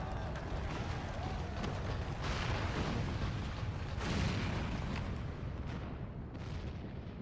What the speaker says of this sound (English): The main tower just collapsed.